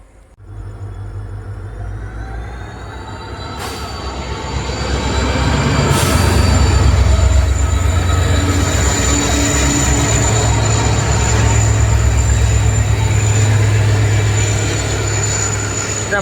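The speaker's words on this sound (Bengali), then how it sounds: "মালগাড়ি আছে একটা কয়লা বোঝা মালগাড়ি" A coal-laden goods train rolls past on the railway line at night, a loud, continuous rumble of wagons and wheels with faint squeal tones above, swelling stronger after the first few seconds and holding steady.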